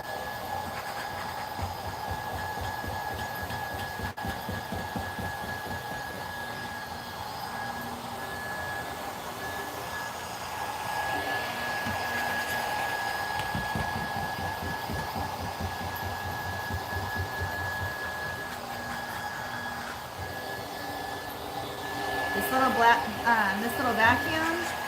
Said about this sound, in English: This little vacuum has been through it all with me. It is such a mighty beast.